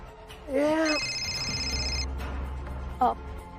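A phone rings with a steady electronic tone for about a second, while people talk around it.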